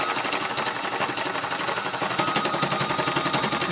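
An embellishing machine drives its needles through fabric with a loud, steady, rapid mechanical punching that runs continuously up close, with no talking.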